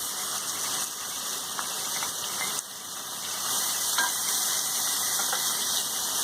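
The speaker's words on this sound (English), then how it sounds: "Now we'll add in our onions." Onions frying in hot oil give a dense, continuous hiss and crackle that steps up slightly partway through, close and steady with no talking.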